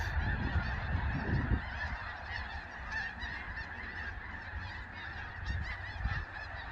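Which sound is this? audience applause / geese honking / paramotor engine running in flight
geese honking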